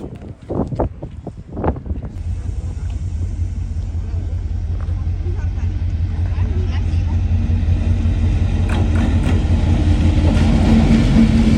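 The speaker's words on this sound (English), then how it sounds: "So here is our train." A Rauma Railway train standing at Bjorli station in Norway gives a steady, loud low rumble and hum that builds and holds throughout, with a few brief knocks early on and faint wind noise.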